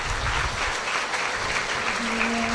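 A congregation claps during a church sermon, a steady, even wash of many hands applauding at moderate distance, continuous through the short stretch with no clear voice on top.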